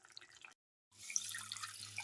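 Water poured into a cooking pot for a garlic potato tomato rice casserole, a steady splashing stream after a brief silence, close and moderately loud.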